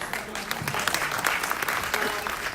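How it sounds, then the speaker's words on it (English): Steady audience applause at a panel event on economic mobility for Black and Brown Americans, a brief continuous wash of many hands clapping at even loudness, with no clear talk on top. "Give another round of applause for the"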